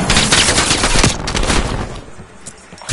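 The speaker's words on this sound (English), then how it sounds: "Hostile sentry turret active." An enemy sentry turret in Call of Duty Black Ops Cold War fires a loud, rapid automatic burst up close for about a second, then trails off into scattered shots and echoing gunfire.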